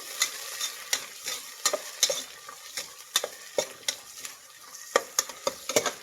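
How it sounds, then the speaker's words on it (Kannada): Onions and fresh green peas fry in a pan under a quiet sizzle, punctuated by frequent sharp scrapes and taps of a spatula stirring in an uneven rhythm, close and alone without speech. "ಮಿಕ್ಸ್ ಮಾಡಿ ಚೆನ್ನಾಗಿ ಫ್ರೈ ಆಗಬೇಕು."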